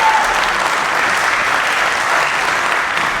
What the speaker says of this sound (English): Let's give them one more round of applause for staying on part and make their way off stage